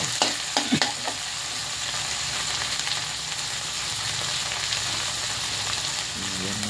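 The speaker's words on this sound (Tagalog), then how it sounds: "halo-halo ng konti hanggang maluto" Chayote and carrot sauté in a wobbly frying pan, a continuous sizzle with a few sharp clanks of the spatula early on, then steady stirring and hissing close by, no talk.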